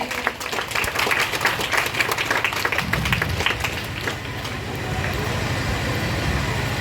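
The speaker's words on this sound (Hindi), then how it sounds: "आप लोग जोरदार तालियां बजा दीजिए।" Loud, dense applause fills a women's religious gathering at a temple, lasting a few seconds before fading into a steady low rumble of background noise.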